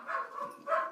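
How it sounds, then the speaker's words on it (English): Dogs barking indoors in a short burst of two muffled barks, fairly close and moderately loud with a brief pause between them. "Sorry, my dogs were barking."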